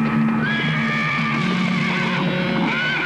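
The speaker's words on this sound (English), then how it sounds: "Patterson's horse reared, throwing him." A horse whinnies loudly as it rears, a long shrill neigh with wavering pitch that carries through the whole stretch, with faint hoof clatter beneath and no talk.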